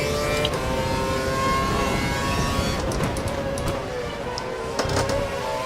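Formula One car engine in the F1 2012 racing game at Melbourne, a steady loud high-pitched whine with rising revs and other cars buzzing by, continuous for several seconds.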